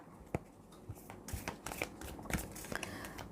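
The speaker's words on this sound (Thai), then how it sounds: "มาดูไพ่คำแนะนำจากไพ่ออร์เคิลกันบ้างนะคะ" Oracle cards are shuffled by hand close by, a quiet run of rapid papery riffles and flicks with small taps, and no talking.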